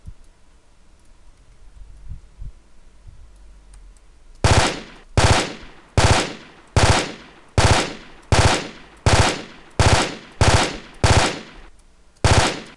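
Burst fire from a gun in a DICE video game: after a few seconds of quiet rumble, about eleven sharp, punchy shots ring out in a steady, evenly spaced rhythm, loud and close with crisp mechanical snap.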